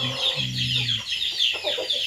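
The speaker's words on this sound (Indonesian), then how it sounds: "Ini ayamnya banyak lagi Bang Kompri." Several chickens, including young birds recently hatched, cluck and squawk in a garden yard, a busy cluster of nearby calls with a drawn-out low note early on and chirpy, overlapping clucks throughout, with no talk.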